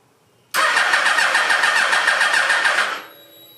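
A Yamaha Banshee fitted with a swapped-in Hayabusa engine fires up abruptly and runs loud and close in a steady buzzing rumble for a couple of seconds before cutting off, leaving a faint whine.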